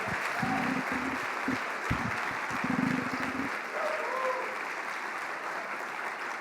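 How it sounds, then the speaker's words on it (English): Sustained audience applause fills a conference plenary session, loud, dense and continuous for about six seconds with no pauses. "And a protracted applause is appropriate."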